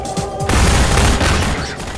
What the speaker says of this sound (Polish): Ale strzeliłem.